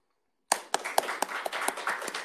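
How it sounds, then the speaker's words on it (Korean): Audience applause welcoming Professor Kim Jin-wook of Konkuk University at an accounting seminar lecture: a burst of clapping starts abruptly after a brief silence and carries on steadily, with a few sharper individual claps standing out. "큰 박수로 김진욱 교수님 맞이해 주시기 바랍니다."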